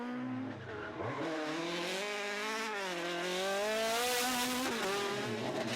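A rally car in a Mark II Irish rally spins out, tyres squealing loudly in long wavering skids as the engine revs rise and fall, close and alone without talk.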